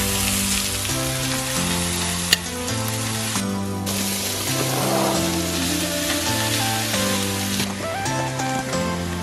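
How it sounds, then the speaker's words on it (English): Celery and carrots sauteing in a cast iron pan give a steady, close sizzle and crackle with occasional stirring. It runs throughout, partly masked by background music. "I am going to saute these veggies in the cast iron just to soak up some of that flavor"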